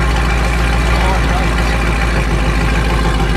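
A car engine idles loud and close after an exhaust drone repair, a steady low rumble with an even throb throughout and no break.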